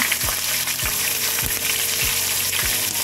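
Onion paste sizzling and frying in hot oil in a pan for chicken korma, a steady loud hiss broken by the regular scrape of a spoon stirring about every half second.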